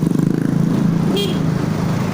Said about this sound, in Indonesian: Waduh, naik motor kenceng banget.